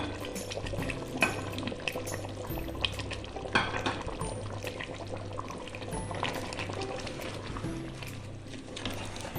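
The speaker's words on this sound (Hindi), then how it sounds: "अब इसमें हमने आलू डाल के इसको बहुत अच्छे से फ्राई करना है" Potatoes sizzle and bubble in a pot of mutton masala for Pakistani-style aloo gosht, a steady frying hiss with scattered pops and spoon scrapes close by.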